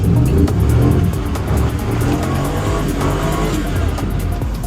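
An old Holden VY SS with a stock diff and stock suspension accelerates hard along a rough, potholed road, its engine roaring loudly and steadily close to the microphone.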